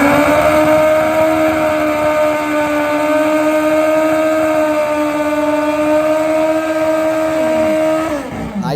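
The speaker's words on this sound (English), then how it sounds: "Pro stock bike, the sweet sounds." Pro stock drag racing motorcycle engine at a drag strip, a loud sustained high-revving drone holding steady for about eight seconds before cutting off abruptly, with no talking over it.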